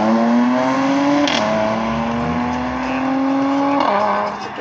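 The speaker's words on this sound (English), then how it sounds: "Lights out, and away she flies. A wonderful AMG departure there" A Mercedes-AMG supercar accelerates hard away from a supercar meet in Retford. The loud, close engine note climbs through the gears, with audible shifts and the whine rising again each time, before it fades slightly as it pulls away.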